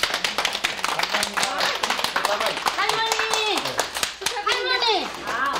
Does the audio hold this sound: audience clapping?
yes